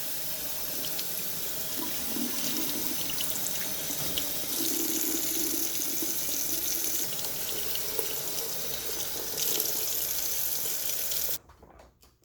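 Tap water runs steadily into a kitchen sink while blueberries are rinsed, a close, continuous splashing hiss with small changes in the flow before it shuts off abruptly near the end.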